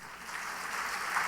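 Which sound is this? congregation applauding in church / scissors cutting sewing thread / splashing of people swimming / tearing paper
congregation applauding in church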